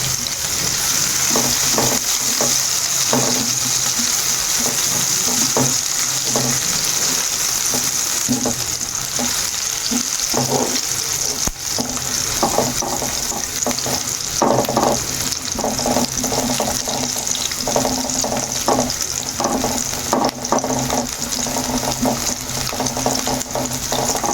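Chopped onion and green chillies fry in a pan for a gourd and black gram dal, with a steady sizzle, stirring scrapes and a running-water hiss throughout, loud and close.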